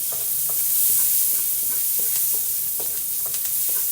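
Garlic and onion sautéing in a pan for pork adobo, a steady hiss of sizzling oil with occasional stirring scrapes and soft clicks, close up and continuous with no talking.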